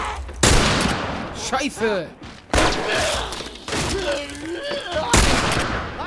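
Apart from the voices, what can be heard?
gunfire in The Last of Us Remastered video game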